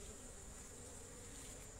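Honeybees at a hive in a university apiary hum in a faint, steady, continuous buzz with no talking.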